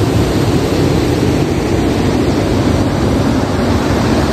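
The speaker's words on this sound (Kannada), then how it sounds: "ನೀರು ನೋಡಿ ನಾವು ಮಾತಾಡೋದು ಕೇಳಿಸಿಲ್ಲ ಅನ್ಸುತ್ತೆ" A high river rushes near a riverside temple on the way from Thirthahalli to Bhimanakatte, a loud, dense, unbroken roar of water filling the whole scene with no gaps or voices.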